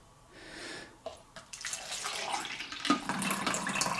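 Coffee streams from a Hamilton Beach hot and iced coffee maker, a soft trickle that swells into a steady, close pour over a few seconds with a faint drip at the start.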